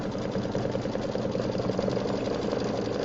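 An embroidery sewing machine stitches steadily, its rapid mechanical needle chatter holding an even, close, continuous rhythm throughout with no talking.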